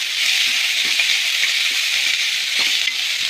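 Finely chopped onions and green chilli fry in a pan for a dhaba-style sev bhaji, giving a steady, loud, close sizzle with faint stirring clinks underneath and no voices.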